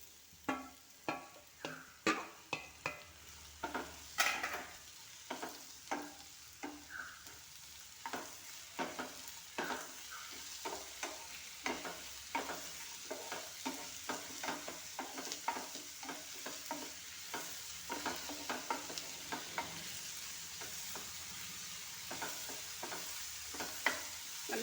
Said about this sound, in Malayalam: ഇപ്പോൾ നമ്മൾ വഴണ്ട് വന്ന സവാളയിലേക്ക് തക്കാളി ഇട്ട് കൊടുക്കാം.